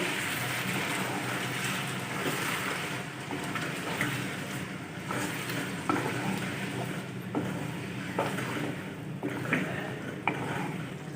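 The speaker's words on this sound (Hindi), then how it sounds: "दही का पानी खुश्क होने तक फ्राई करेंगे।" Boneless chicken handi gravy with yogurt frying in a pot until the water dries off, a steady loud sizzle with scattered clicks and stirring knocks throughout.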